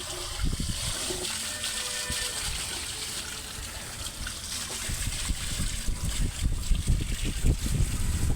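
Water rushes under pressure through a pipeline being flushed clean of fluoride buildup, a steady hissing, gurgling flow close by that swells slightly louder toward the end, with no voices.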